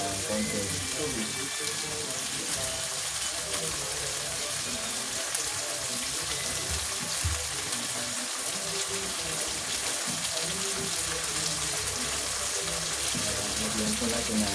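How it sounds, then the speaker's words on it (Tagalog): Water is poured into a pan of chicken cooking with tomato, making a steady, loud, continuous gushing and sizzling wash that lasts the whole stretch without pause. "Lagyan natin ng konting tubig."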